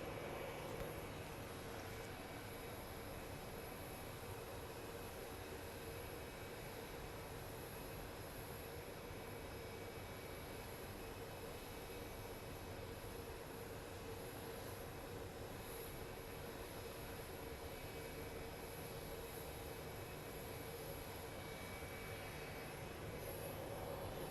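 Jet airliner noise from a plane on approach to Phoenix Sky Harbor International Airport, a steady broad roar that holds at the same level throughout, with no talk.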